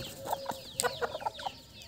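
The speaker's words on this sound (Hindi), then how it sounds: "आप मुर्गी देखो काले वाले मुर्गी देखो" Free-range desi chickens in an open farm area give a run of short, soft clucks at middle distance, several in quick succession, with a faint high call over a quiet background.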